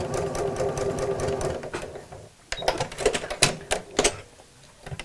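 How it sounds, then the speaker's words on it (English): A sewing machine runs a few short bursts of straight stitching, giving a fast mechanical whirring and clatter that starts and stops in uneven spurts, close and loud with no talking. "So we need a straight stitch, and I'll just sew a few stitches there."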